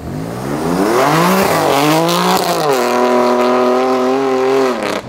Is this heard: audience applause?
no